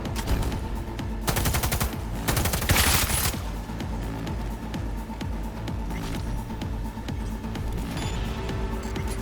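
Rapid video game gunfire in Cyberpunk 2077 Phantom Liberty: dense bursts of automatic shots over a constant loud background of music and effects, strongest in the first few seconds, then fainter scattered shots.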